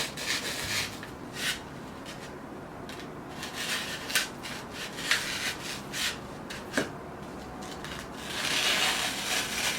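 Urethane foam is sawn by hand in steady, soft rasping strokes, close and fairly quiet, with a few sharper scrapes and no talking.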